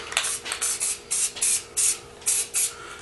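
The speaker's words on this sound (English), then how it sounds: "all that is just a little bitty blasts, not too close," Short hissing bursts from a spray paint can, about seven evenly spaced blasts of under a second each with brief pauses between, close and fairly loud with no talking.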